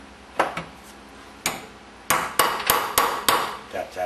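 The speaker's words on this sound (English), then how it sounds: "Grab our hammer again." A hammer taps a bolt to seat it during a Meyer E 47 rebuild: sharp metallic strikes, a couple of early isolated hits, then a quicker run of close, ringing taps near the end.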